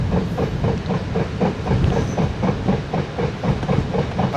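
A train passes close and loud, its wheels beating a steady, regular clickety-clack rhythm over a continuous rumble, with no talk.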